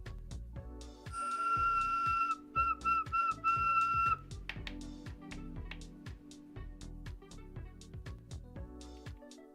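Several shrill whistle tones ring out over busy background music, sounding in short repeated bursts before fading back into a steady, moderately loud musical bed.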